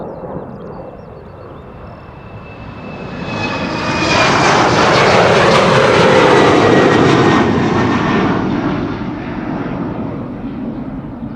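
A KLM jet airliner, eighteen years old, departs Amsterdam Schiphol on a flight to Aalborg, its engine roar building from a distant rumble to a loud peak with a rising whine, then slowly fading.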